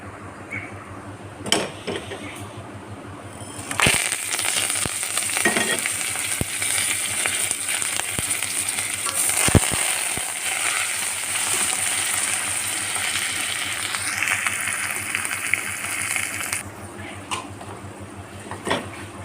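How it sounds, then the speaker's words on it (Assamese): Whole cumin, bay leaves, dried chillies, Sichuan-type pepper, curry leaves and panch phoron dropped into leftover fish-frying oil, giving a sudden loud, steady sizzle that holds for over ten seconds with occasional clicks before cutting off. "এতিয়া মাছ ভজা তেলখিনিতে আমি দি ল'ম আপোনাৰ নৰসিংহ পাতকেইটা, গোটা জিৰা কেইটামান, জালুক কেইটামান, শুকান জলকীয়া 2টা, তেজপাত আৰু পাঁচফোৰণ"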